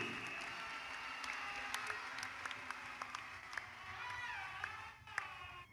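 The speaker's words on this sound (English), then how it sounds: "Can we give the Lord a clap offering once again?" A church congregation claps together in a fairly faint, distant patter of scattered hand claps that continues steadily for several seconds.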